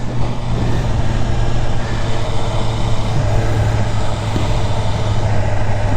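A BMW S1000RR sportbike runs in second or third gear from low RPM, a loud close engine drone with a steady low hum that holds fairly constant throughout.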